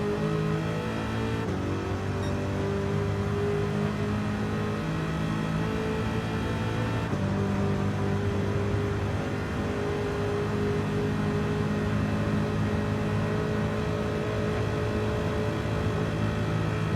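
A Corvette C8 ZR1 howls at very high speed down a Nürburgring straight, a steady loud engine drone with a gear change early on and constant wind roar.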